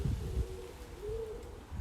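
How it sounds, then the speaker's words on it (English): A single bird calls outdoors with a couple of soft hooting or cooing notes, moderately faint against gusting wind noise, with no talking over it. "Oh, bird."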